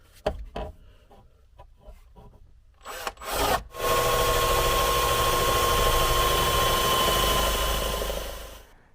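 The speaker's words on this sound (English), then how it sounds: "so I'm going to try to drill from here" A few sharp knocks and bursts, then a power drill whirs loudly and steadily for several seconds, drilling a hole in an Alfa Romeo Stelvio Quadrifoglio, before winding down.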